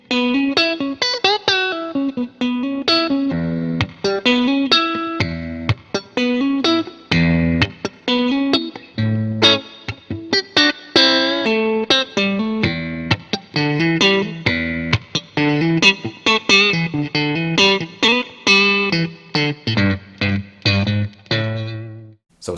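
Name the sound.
electric guitar with single coil pickups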